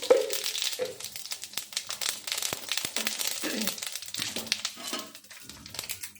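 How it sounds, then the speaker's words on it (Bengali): Cumin seeds crackle and pop in hot oil in a kadai for Bengali niramish dhoka dalna, irregular sharp snaps and rustly crackles up close, no speech. "এবার আমি কড়াইতে একটু জিরে ফোড়ন দিলাম"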